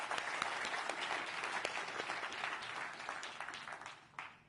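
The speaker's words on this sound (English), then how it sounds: "Everybody give a round of applause for our panel." An audience at a global AI summit in the UK claps for a panel, dense sustained applause filling the room for several seconds, tapering near the end with a few last claps.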